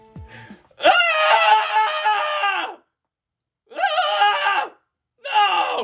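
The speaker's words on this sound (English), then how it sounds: "Gotta do some screams." A singer screams into a microphone for a vampire-themed song, with three loud, sustained raw screams, each a second or two long and separated by short silences.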